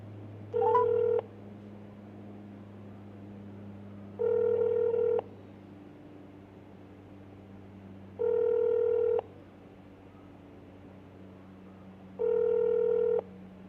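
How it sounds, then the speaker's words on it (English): A telephone call rings out: four evenly spaced ringback tones, each about a second long, repeat every four seconds over a low steady hum in an otherwise quiet room. "We're making that call right now."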